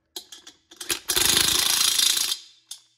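A half-inch impact wrench torques lug nuts on custom wheels of a 4x4 side-by-side: a few short hammering bursts, then one loud sustained rattling run of about a second and a half, close and alone, with a last brief blip.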